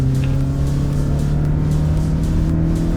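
A car engine runs at a steady, loud rev during a brake test, its drone holding constant and close for the whole stretch, with no talking.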